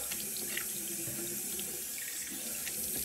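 A bathroom tap runs steadily into a sink while someone washes their face, a constant close rush of water with faint splashes and no talking.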